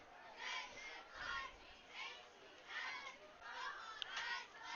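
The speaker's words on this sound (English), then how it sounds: "You can hear the cheer squad for Havasu trying to get him riled up." Cheer squad at a Lake Havasu High School Friday night varsity football game, chanting in rhythmic bursts from across the field, distant and moderate under a crowd murmur.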